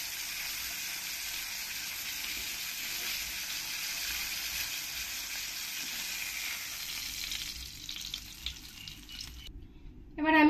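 Rohu fish pieces frying in hot oil give a steady, dense sizzle that holds close and loud for most of the stretch, then thins and drops away near the end, followed by a short clatter.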